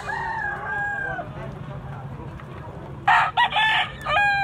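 A big white-legged fighting cock crows loudly and close by. A long drawn crow opens the clip, a quieter stretch follows, and a second burst of strained crowing comes near the end.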